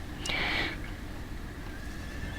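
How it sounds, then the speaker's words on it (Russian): A horse whinnies once, loud and high, in the Game of Thrones Telltale video game, followed by faint ambient sound with no talking. "Слышишь это? Конь."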